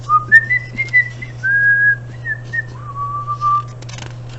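A person whistles a short, wavering tune alone, clear and close, sliding between a few sustained notes over a faint steady hum.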